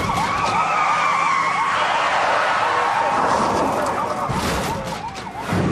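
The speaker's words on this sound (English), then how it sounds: "Sergeant Libby can only watch in his rearview mirror as his fellow officer spins out" A police car skids and spins out during a high-speed chase in Port Wentworth, Georgia, in 1999. Tires squeal loudly in long wavering shrieks over engine roar, and the sound fades slightly toward the end.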